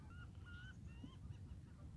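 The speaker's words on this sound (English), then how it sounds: "Alberta Beach, close of the day. You hear the birds." Geese or waterfowl honking faintly in the distance at Alberta Beach at the close of day, a few short calls over a steady low outdoor rumble.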